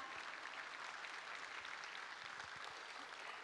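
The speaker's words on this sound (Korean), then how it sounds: "힘찬 박수 부탁드리겠습니다" Faint, steady applause from a crowd at the launch ceremony of the Korean navy submarine Dosan Ahn Changho, distant and continuous without any voices.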